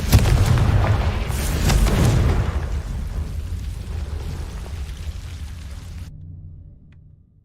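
A fiery Confringo spell explosion in Hogwarts Legacy, a loud deep boom that rumbles and slowly fades over several seconds before cutting to silence.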